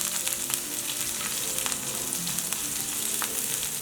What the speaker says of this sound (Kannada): ಪ್ಯಾನಿಗೆ ಒಂದು ಸ್ವಲ್ಪ ಎಣ್ಣೆ ಹಾಕ್ಕೊಳ್ಳೋಣ, ಸ್ವಲ್ಪ ಸಾಸಿವೆ ಹಾಕ್ಕೊಳ್ಳೋಣ, ಹಸಿಮೆಣಸಿನ್ಕಾಯಿ ಸೀಳಿದ್ದು